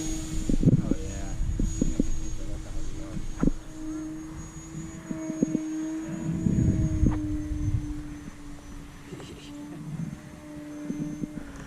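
Timber X RC plane flying over a park field, its electric motor humming as a faint, steady tone above scattered handling noise and thumps.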